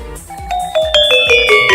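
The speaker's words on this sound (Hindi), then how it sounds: "ये कोई मामूली घंटी नहीं, ये एक जादुई घंटी है।" A bright cartoon magic bell chime rings out in a rising sequence of clear, sparkling tones, each strike layered over the last and growing louder, alone without any voices.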